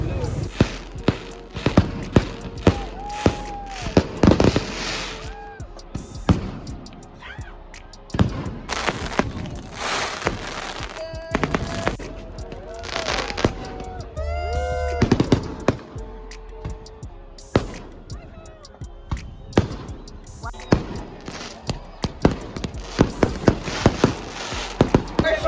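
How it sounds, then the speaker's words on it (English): Fireworks and firecrackers bursting outdoors at night, with many sharp pops and thumps at irregular intervals over nearly half a minute, some close and loud, others fainter, while people talk in the background. "Somebody got hit by one of them fireworks."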